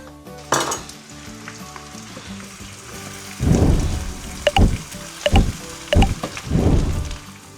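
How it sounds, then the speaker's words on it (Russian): Potatoes sizzle in a hot pan with a steady frying hiss, broken by several bursts of louder crackling as pieces are stirred and scraped. "пускай потихонечку жарится это."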